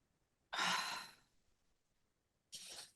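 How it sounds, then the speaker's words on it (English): Two slow, deliberate deep breaths are taken as a conscious breathing exercise, each a long airy exhale, the first fuller and the second shorter, close and quiet with silence between them. "even if you just take 3 conscious breaths"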